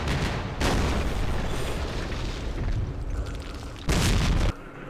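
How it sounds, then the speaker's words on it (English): Artillery explosions in Campaign Series Vietnam at Dien Bien Phu, a sustained loud roar of blasts with two sharper, heavier impacts, one near the start and another late on. "We're gonna get smoked by artillery again."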